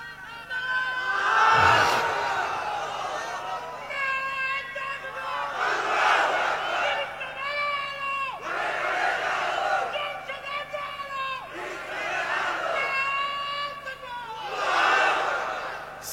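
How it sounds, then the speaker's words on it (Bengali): At a Bangla religious sermon gathering, a large crowd chants the Islamic slogan Naraye Takbir in repeated loud collective call-and-response bursts, voices swelling and falling in waves about every two seconds. "আপনারা নারায়ে তাকবীর এখানে একটু দেন।"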